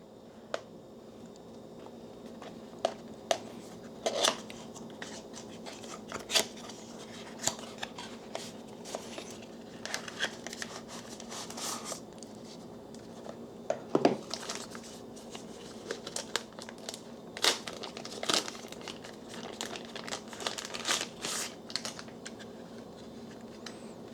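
Plastic film and packaging on a DJI Osmo Pocket 3 camera being peeled and crinkled during unboxing, a near, close-miked run of irregular crisp crackles, snaps and rustles spread across the whole stretch with no talking.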